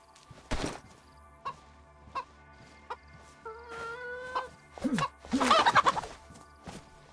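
A chicken clucks in the survival video game DayZ, with scattered single clucks followed by a drawn-out call and a louder flurry of squawks, fairly close against a quiet background.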